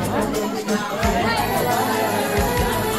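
Dense crowd of women chattering at a village wedding in a Gaaw ki shaadi ceremony, a steady loud babble of many overlapping voices with a few low thumps underneath.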